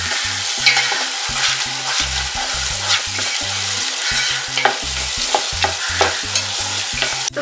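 Tomatoes sauté in ghee in a pan for veg dum biryani, a loud close sizzle, steady throughout, with frequent scraping stirs and no talking.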